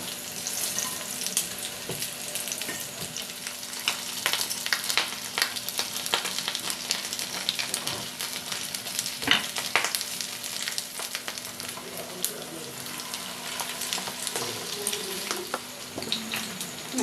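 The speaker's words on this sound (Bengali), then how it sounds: "দেখুন আমার রাইস পকোড়াগুলো ভাজা হয়ে গেছে" Rice pakoras deep frying in oil, a steady crackling sizzle with frequent small pops and some spoon or ladle clatter, close-up and moderately loud for the whole stretch.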